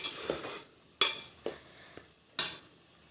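Tomatoes cooking in a pan, with a few sharp stirring scrapes and clinks of a utensil against the pan over a soft, faint sizzle, spaced about half a second to a second apart.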